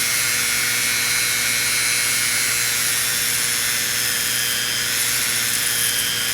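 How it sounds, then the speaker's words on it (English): A small drill bores a little hole into the end of a whittled wooden hobo figure, a loud, steady high-pitched whir running without pause and with no talk. "I'm going to drill a little hole on this end over here."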